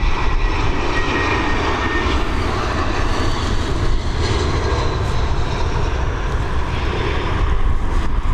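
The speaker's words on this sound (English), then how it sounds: "There she is, nice landing there from the BA crew." A British Airways airliner landing at Dublin Airport produces a loud, steady, broadband engine roar that holds evenly throughout with no talking.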